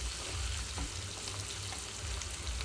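Bitter gourd pieces frying in a pan with a soft, steady sizzle and faint crackle, quiet and continuous, with a low background hum and no talking.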